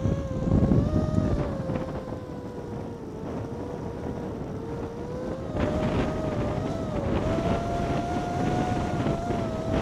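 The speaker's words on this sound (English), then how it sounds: "So the wind is pretty much straight at my back now." Strong wind gusting around 25 mph on a Lake District mountain buffets the microphone in a continuous roar that surges louder partway through, with a steady droning tone beneath.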